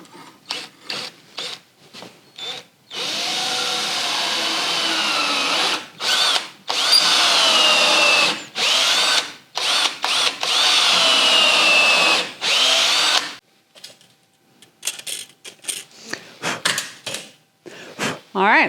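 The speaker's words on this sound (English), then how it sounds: "So what you want to do is drill it" A power drill whirs in several long bursts into wood, starting and stopping repeatedly, with short quiet gaps and some faint handling noise between runs.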